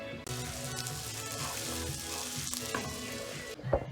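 Sausage fries in a pan, releasing its fat, a steady close sizzle and crackle with a few stirring scrapes near the end, no talk.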